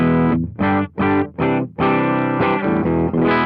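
Humbucker-equipped electric guitar played through an Anarchy Audio Gain of Tones overdrive pedal: several short distorted chord stabs, then a sustained strummed passage, loud and close with no talking.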